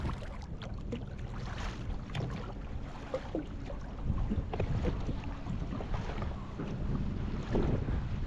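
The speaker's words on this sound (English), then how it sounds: "drowned by the Coca-Cola boats" Motorboats passing on open water in the Maldives, a steady low engine rumble with wind buffeting the microphone and lapping sea, swelling slightly partway through as a boat draws nearer.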